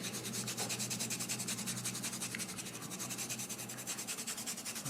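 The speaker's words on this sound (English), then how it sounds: "I'm just taking a pinch here of coffee and rubbing it in" Fingers rubbing finely ground coffee into the carved lines of a hand-carved wooden baby spoon, a soft continuous scratchy friction with quick back-and-forth strokes, close and fairly quiet.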